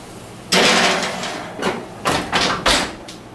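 Oven door being opened as a cast iron pan goes in, a sudden loud clatter followed by several shorter metallic knocks and slides close by, with no talk.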